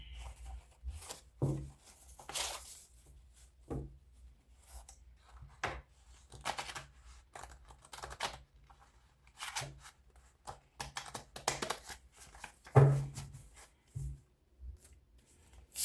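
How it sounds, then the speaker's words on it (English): Crisp papery riffling and soft card slaps from tarot cards being shuffled come in irregular bursts, close by, with brief pauses between shuffles and no talking. "Let me shuffle again."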